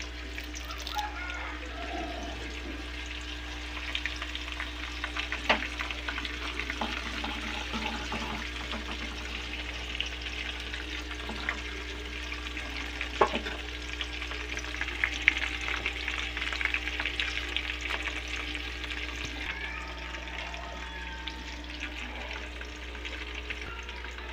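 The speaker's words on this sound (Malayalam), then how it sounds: "വെളിച്ചെണ്ണയിൽ ഒന്ന് താളിച്ചെടുക്കാൻ എടുക്കാം രണ്ടല്ലി കറിവേപ്പിലയും കൂടി ഇട്ട് കൊടുക്കാം" Garlic and curry leaves temper in hot coconut oil, giving a continuous busy sizzle and crackle close up, with scattered pops and utensil knocks, before settling into a slightly quieter frying hiss near the end.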